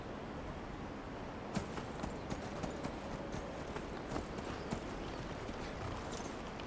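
Horse hooves clip-clop steadily in a video game set near Windhelm in Skyrim, a walking rhythm of distinct hoofbeats against a constant broad ambient wash.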